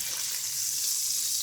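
A pork roast browns in a hot pan with a steady, close, bright sizzle that holds evenly throughout.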